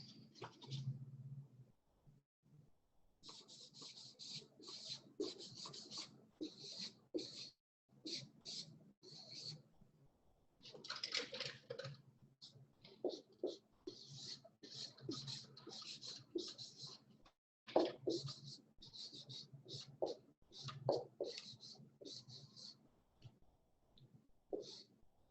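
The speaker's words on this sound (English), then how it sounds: "I'm going to write another sentence on the board." Marker or chalk scratching out a sentence on a classroom board during a phonics lesson, short quiet strokes in irregular bursts with pauses between, fairly close.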